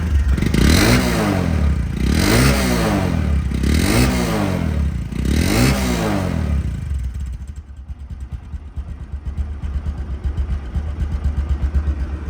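A Bajaj Discover 125cc motorcycle engine revs loudly up close in four repeated rising and falling surges, then settles back to a lower, uneven idle putter.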